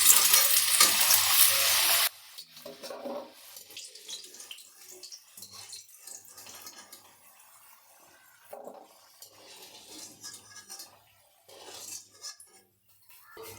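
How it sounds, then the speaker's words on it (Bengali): Potatoes fry in hot oil in a pan for a Bengali murighonto, a loud dense sizzle for about two seconds that drops to quieter, intermittent stirring and scraping with soft bubbling. "আলুগুলোকে একদম লাল লাল করে ভেজে নিয়েছি।"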